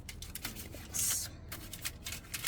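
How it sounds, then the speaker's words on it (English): A knife slices a chicken quesadilla in half with a short, crisp crunch of toasted tortilla, close and moderately loud, amid light kitchen clatter. "So just cut this in half."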